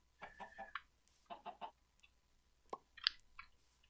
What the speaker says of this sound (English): The little popping sound, that was an egg.